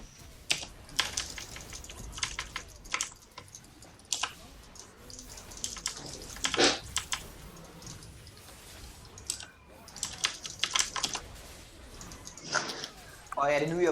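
Rapid clicking of keys on a computer keyboard in irregular bursts, close and fairly quiet, with a voice speaking over parts of it.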